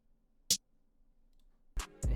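A classic snare sample in a trap beat, three sharp isolated hits, one early and two close together near the end, with near silence between.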